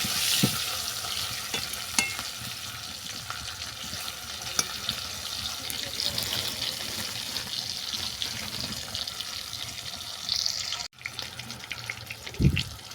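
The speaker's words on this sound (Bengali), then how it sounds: "কচু আলু বাদামি করে ভেজে নেবো" Taro and potato chunks frying in oil until brown for a taro and chicken curry, a steady sizzle with occasional stir scrapes and clinks, close, with a brief break near the end, no talking.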